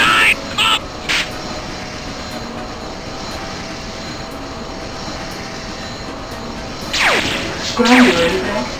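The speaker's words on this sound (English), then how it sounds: "Slipstreamers, start your engines!" Racing craft engines in the Slipstream 5000 game, a steady airy roar that builds into louder whooshing surges near the end, with brief voice fragments at the start.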